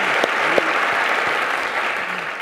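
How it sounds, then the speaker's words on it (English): A large audience at the Skoll World Forum 2016 breaks into sustained, steady applause, dense clapping that fills the whole stretch without a break, with no speech over it. "So please, a round of applause."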